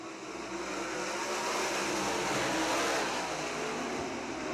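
Pack of Great Lakes Super Sprints sprint cars roaring away at the green flag start at Crystal Motor Speedway, a loud, dense, sustained wall of engine noise that swells steadily across the field with no talk.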